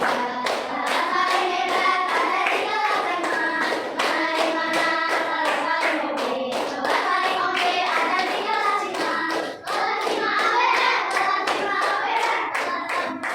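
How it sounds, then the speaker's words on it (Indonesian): A school class claps in a brisk, energetic pattern of sharp, near hand claps, with children chanting and singing along throughout and a teacher's voice occasionally heard. "tepuk tangan"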